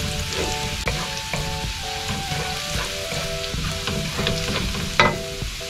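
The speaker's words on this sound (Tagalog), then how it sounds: "Hintayin lang po natin na medyo mag-light brown po yung ating bawang." Garlic fries in a pan until light brown, giving a continuous crackling sizzle with occasional stirring scrapes and a brief clatter near the end, close and moderately loud.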